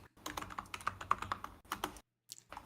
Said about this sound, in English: You're typing. I can hear that.